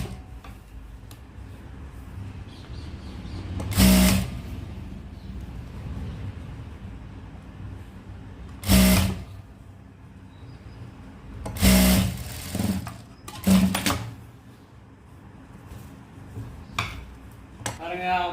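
A sewing machine stitching a shirt sleeve, running in several short bursts of fast mechanical whirring and clatter separated by pauses with softer handling noise.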